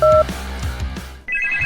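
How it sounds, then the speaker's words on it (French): A telephone rings from inside a cardboard box, two bright electronic trills with a muffled thumping between them, fairly loud and close, with no talking. "Oh, un téléphone? Quelqu'un se cache dans ce carton."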